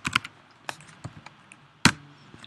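Someone types on a computer keyboard in sparse, uneven clicks, with a handful of sharp, close keystrokes and one louder key strike near the end, in a quiet room with no talking.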